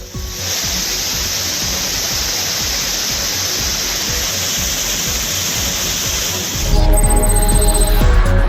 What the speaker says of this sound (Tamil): திருப்பரப்பு அருவி மற்றும் கோதையாற்றில் வெள்ளப்பெருக்கு ஏற்பட்டுள்ளது